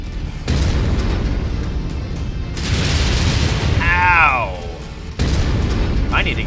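Ammo cook-off explosion in a mech combat video game fitted with missile launchers and an autocannon: several loud, booming broadband blasts with rumbling tails, with a brief voice cry among them.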